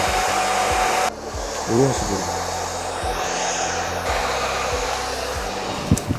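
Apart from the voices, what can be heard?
hair dryer blowing on a wig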